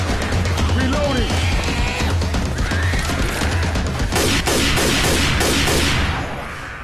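Explosive blast clearing zombies in the game Cold Stream, a dense rapid crackle of gunfire and bursts that fills the clip loudly, heaviest toward the end, with voices talking over it.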